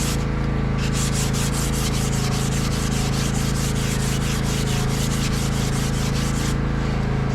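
Hand sanding of oak wood with a small piece of sandpaper for a crib build, a steady close rhythmic rasping of strokes back and forth that runs without pause and without talk.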